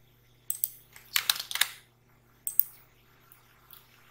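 Computer keyboard keys pressed for a Ctrl V paste, a few sharp close clicks in small clusters separated by quiet gaps.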